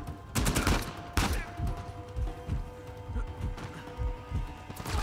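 Gunfire in the video game Uncharted 4, with bursts of sharp shots and rapid automatic fire in irregular clusters across the clip, and a voice talking over parts of it.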